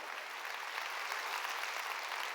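A church congregation at a worship service claps together in a dense, uniform wash of applause, loud and sustained with no voices.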